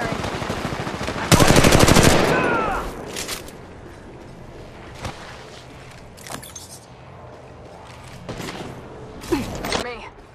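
Automatic gunfire in Apex Legends Mobile, a loud dense burst of rapid shots lasting about a second near the start, followed by a few sharp single shots and mechanical clatter, with game sounds mixed in.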